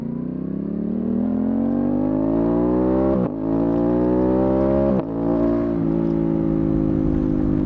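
An Aprilia Tuono 660 motorcycle engine and exhaust rev up close and loud, pitch climbing steadily, with two quick shift breaks where the sound dips and resumes, then a steady drone near the end.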